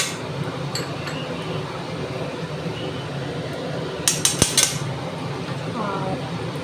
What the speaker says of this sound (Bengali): আর পোস্তটা নেড়ে নিলাম।